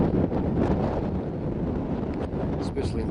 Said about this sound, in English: especially in today's wind